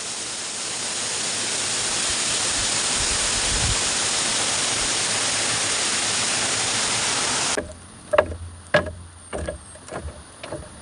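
Abakahan waterfalls roar as a loud, steady rush of falling water for several seconds, then cut away to quieter sounds with a few sharp knocks.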